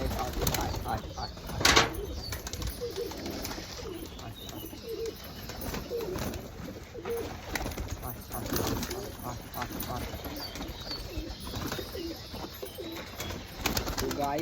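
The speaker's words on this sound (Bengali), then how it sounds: "পায়রাগুলো এখন খেয়ে নিচ্ছে" Pigeons coo and rustle while pecking at scattered feed close by, with occasional wing flaps and soft fluttering; a person speaks at times over the birds.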